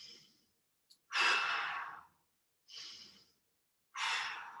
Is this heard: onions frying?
no